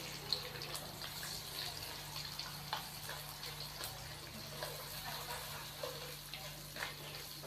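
Onions drop into about one and a half cups of hot cooking oil in a kadhai for a chicken biryani masala, giving a steady, soft sizzling hiss dotted with faint pops.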